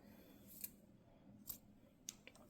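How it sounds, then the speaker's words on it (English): Scissors snip through pink yarn while a parakeet plush is being made, giving about four faint, sharp, separate cuts over a quiet background. "From here, we're going to cut the pink yarn"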